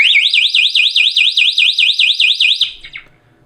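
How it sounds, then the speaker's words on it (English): A pressure-sensing step mat sets off a prop alarm: a loud, close electronic siren warbling rapidly up and down in a steady repeating cycle, then cutting off abruptly into a brief quiet tail. "the alarm would continue to go off."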